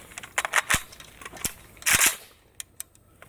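A suppressed AK-47 RPK firing full auto with subsonic ammo: short rapid bursts of muffled, clattering shots, close and loud, then a few isolated sharp cracks trailing off.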